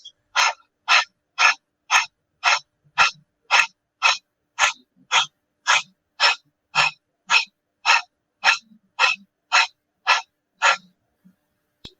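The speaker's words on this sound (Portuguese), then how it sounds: "Geralmente a gente faz pela boca porque é mais rápido para a entrada, né, de oxigênio, com uma saída, né, rápida também de gás carbônico." Rapid rebirthing breathing done through the mouth: around twenty sharp, even breaths follow in a steady fast rhythm, close and loud, with short silences between them and no talk.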